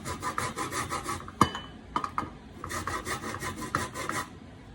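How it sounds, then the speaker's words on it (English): An orange peel is scraped for zest against a grater in repeated rhythmic rasping strokes, close and clear, with a couple of brief knocks in between. "I'm going to scrape it and get some orange zest. Just going to scrape it like this."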